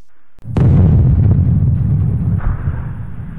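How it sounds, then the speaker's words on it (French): A huge explosion effect bursts at about half a second with a sharp crack, then a long deep rumble rolling on for several seconds, loud and with no voices over it. "il va y avoir une explosion énorme"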